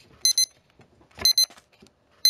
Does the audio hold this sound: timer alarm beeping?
yes